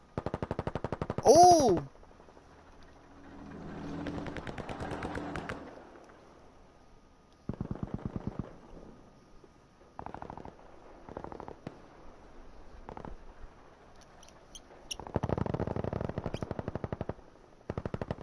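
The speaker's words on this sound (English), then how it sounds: "it's going to be a one-on-one gunfight here" Gunfire in a one-on-one gunfight on a contested point in a video game match between the 30th and Legion teams. Several loud bursts of rapid automatic fire come and go, with quieter pauses between them and a brief exclaiming voice early on.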